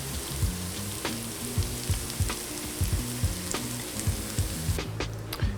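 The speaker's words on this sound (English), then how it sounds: "So you want to saute this until the garlic softens" Green onion whites, garlic, fermented black beans and chili crisp sizzle loudly in a hot pan for vegan mapo tofu, a steady frying crackle broken by repeated scraping stirs, close and alone.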